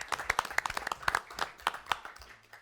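Applause during a city council meeting: a scatter of hand claps from a small group in the chamber, irregular and moderately close, lasting a few seconds with no speech over it.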